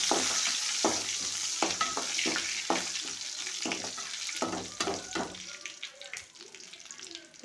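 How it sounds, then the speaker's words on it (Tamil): Mustard seeds and fenugreek crackle and pop in hot oil with curry leaves and a little cumin, a dense run of sharp spluttering bursts over a steady frying hiss, close and fairly loud throughout. "கடுகு, வெந்தயம் நல்லா பொரிய விட்டுட்டு கருவேப்பிலை போட்டுக்கணும்"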